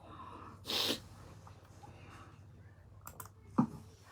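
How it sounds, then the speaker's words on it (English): A single sharp sneeze bursts out up close, followed a few seconds later by a brief snort or sniff against a quiet room background. "Yeah, I'm sneezing"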